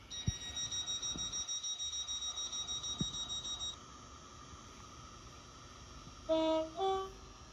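Electronic tones and a rhythmic pulsing hum of a video game metro train, a Stepford Connect service to Stepford Victoria, at Benton station, fading to quiet rumble, then two short chime notes near the end.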